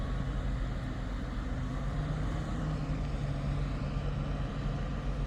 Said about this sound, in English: A lot of buses in Hull.